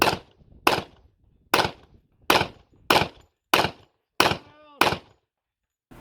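A real USP pistol fired without a silencer at an outdoor target: eight sharp, loud single shots at roughly even intervals, each cracking and decaying quickly.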